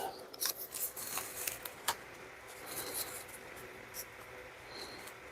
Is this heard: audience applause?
no